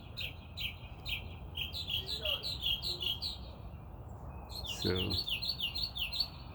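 Wild birds drawn to scattered bird seed chirp in the morning, with a steady stream of high, repeated tweets and calls that grow busier toward the end, plus a brief spoken word.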